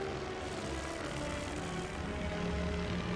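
A World War I bomber in the video game Great War Western Front flies overhead with a faint, steady propeller-engine drone. The hum holds constant throughout.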